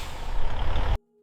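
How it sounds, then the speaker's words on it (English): A fully loaded delivery truck pulls away from a sweet corn processing plant, a steady loud rumble with a hiss of air brakes that cuts off abruptly. "The fully loaded truck departs the facility."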